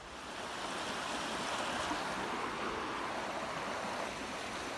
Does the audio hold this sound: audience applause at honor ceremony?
no